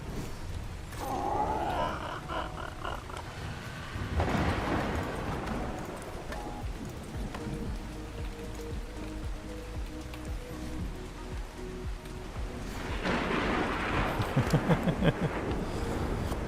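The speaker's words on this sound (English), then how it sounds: "I think I might need to somehow turn these storm noises down." Steady rain and storm noise from the survival game Ark Survival Ascended hiss continuously at moderate loudness, swelling briefly in a couple of places, with faint low rumbles and no voices.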